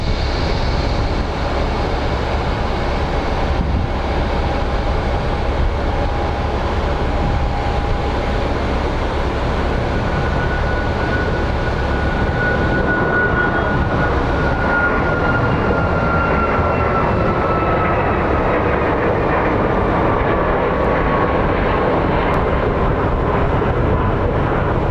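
An airliner departs Phoenix Sky Harbor for San Diego, its jet engines producing a loud, broad, continuous roar with a slowly shifting whine throughout.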